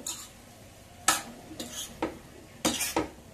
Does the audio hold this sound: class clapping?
no